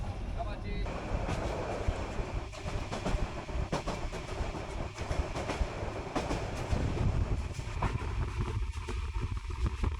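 Continuous rumble and rattling of a train in Bangladesh rolling along the rails, heard from inside a carriage, with faint clicks and a steady low drone.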